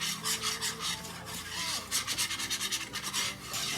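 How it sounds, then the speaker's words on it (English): A pot of cheese sauce being stirred constantly as it thickens for a cheap quick dinner, giving a steady close-up rasping, rubbing scrape of the spoon against the pan that pulses rhythmically without any talk. "I'll let it thicken for a second because it's trying its best to, and I'm stirring it constantly."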